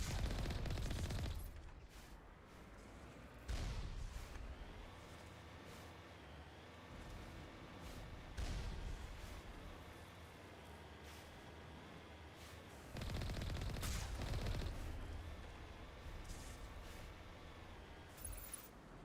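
Turret gunfire in the Mass Effect video game, heavy bursts of automatic fire arriving in several loud volleys with quieter rumbling stretches between them, over a steady game background.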